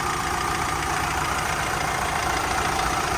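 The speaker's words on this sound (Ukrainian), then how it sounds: "Мотор більш-менш нормально працює" A 2004 Nissan X-Trail T30 diesel engine idles steadily and close by, a constant low rumble with an even clatter, no voices over it.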